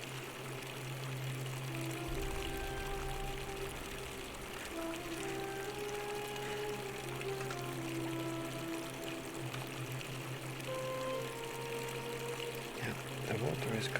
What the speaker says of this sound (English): The water is coming.